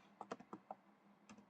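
Several separate keystrokes on a computer keyboard while someone types text during a Python coding lesson, in short clicks with a brief pause before the last two taps, close and fairly quiet.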